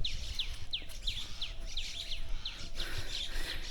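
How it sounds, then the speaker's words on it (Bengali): Birds in a village in rural Bogura, Bangladesh, giving a run of quick, fairly faint repeated tweets over a steady outdoor hiss. "পাখির শব্দ শোনা যায়"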